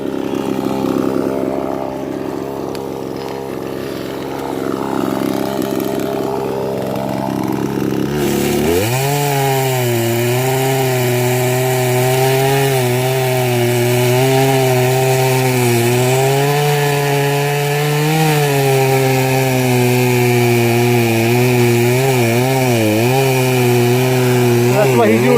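Poulan Pro chainsaw with a chisel chain cutting tree stumps flush to the ground, idling at first, then revving into a loud, sustained cutting whine with wavering pitch, close up; speech is faintly mixed in.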